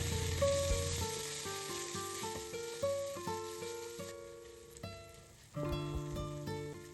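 Cumin, turmeric, asafoetida and ginger garlic paste sauté in a pan for a pumpkin masala, hissing softly for the first few seconds, then fading under steady tonal music.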